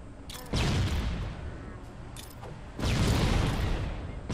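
Grenade explosions in the video game Halo Combat Evolved, two heavy broadband blasts about two seconds apart, each swelling into a long rumbling roar over continuous battle noise.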